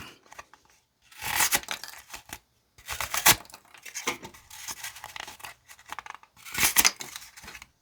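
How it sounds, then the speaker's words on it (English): A Buck folding EDC knife slices through cardboard in four or five quick, raspy cutting strokes with brief pauses between them, close and fairly quiet. "And finally, let's slice through some cardboard."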